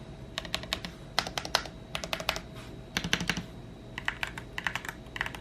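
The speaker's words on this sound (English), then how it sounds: "Very clean keyboard, sounds very nice as well." Bursts of crisp, clicky keystrokes on a mechanical keyboard, typed in quick irregular runs with short pauses, close and fairly quiet.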